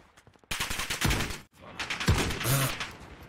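A dense burst of gunfire hits the player in Call of Duty Warzone, with rapid close shots in two loud volleys separated by a short gap, and a few lighter clicks before them.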